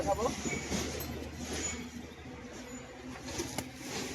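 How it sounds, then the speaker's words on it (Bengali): A male and a female pigeon in a loft, soft cooing and rustling over steady background noise, with people talking nearby. "এটা একটা মাদি পায়রা আর ওরই সাথে একটা নর পায়রা"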